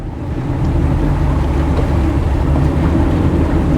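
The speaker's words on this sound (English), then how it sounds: "So I'm just going to do some transverse thrust." A steady low engine rumble with water churning, constant and fairly loud throughout, as a 2022 Regal 38 SAV day boat with about 900 horsepower maneuvers using transverse thrust with the engine centered.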